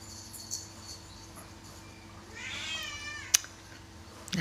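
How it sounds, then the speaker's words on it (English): A cat gives a single drawn-out meow midway, moderately close but soft, over a quiet indoor background hum with a brief click afterward. "Now my cat's really meowing."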